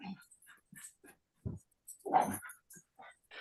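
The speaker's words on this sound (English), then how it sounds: "Dogs, hard to control." Dogs whimper and whine in short, scattered bursts indoors, with one louder yelping cry near the middle, fairly close and mostly alone.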